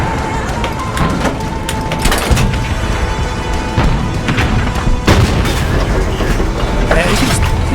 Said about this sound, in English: See how this tank's gun is just ripping target after target